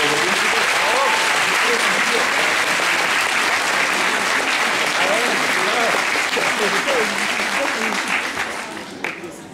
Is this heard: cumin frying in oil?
no